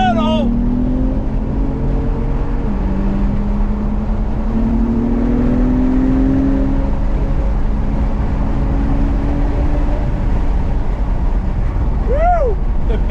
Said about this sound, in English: We are gonna go on track